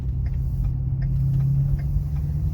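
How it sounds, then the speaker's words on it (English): A Ford truck with a 6R140 transmission drives on a test run while the transmission warms up, giving a steady, low engine and road rumble throughout with no talk. "we're just going to take it for a little test drive, getting the transmission warmed up"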